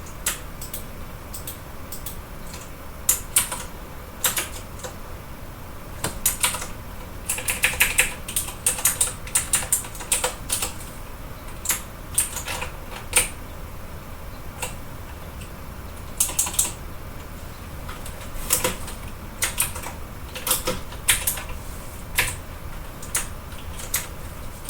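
Someone types steadily on a computer keyboard during a tutorial session, producing a close, continuous patter of key clicks with short bursts and brief pauses, with no talking over it.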